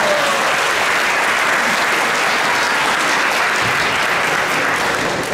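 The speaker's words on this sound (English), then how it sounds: "can you give once again a big round of applause for Baba Prabhu?" Steady, dense audience applause after a talk at ISKCON Toronto, a loud continuous wash of many hands clapping that holds evenly for several seconds without any talk.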